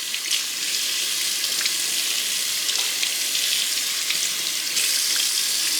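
Tap water runs steadily into a sink while makeup brushes are rinsed, a bright, hissing splash with small irregular spatters and drips, close and continuous.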